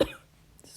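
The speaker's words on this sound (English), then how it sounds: "I might be coughing and clearing my throat" One sharp cough from a sick math lecturer, close and loud, then a quiet room tone with a faint breath.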